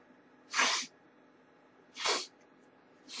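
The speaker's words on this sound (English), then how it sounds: "Let's see what we have when we sniff it." Old Mill Pumpernickel Toast nasal snuff sniffed sharply up the nose, three short forceful breathy sniffs about a second and a half apart, close and otherwise quiet.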